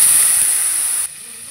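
Whole cumin seeds hit hot oil while bata fish tel jhal is being cooked, giving a loud, close burst of sizzling hiss that drops to a quieter hiss after about a second.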